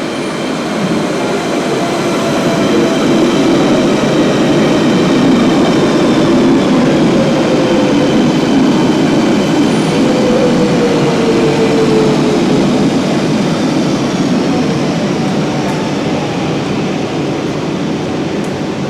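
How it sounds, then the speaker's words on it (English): A London Underground Central Line train to Ealing Broadway roars steadily throughout, with broadband rumble and a faint high whine, loud and close as if heard from inside a carriage. "This is a Central Line train to Ealing Broadway."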